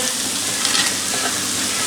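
Kangaroo kebabs sizzle in a hot pan, a loud, steady hiss and crackle of frying that runs unbroken throughout, close up with no talking.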